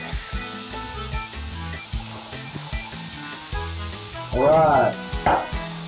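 Pork sizzling in a pan while searing for caramelization, a steady hiss under background music, with a brief spoken word near the end.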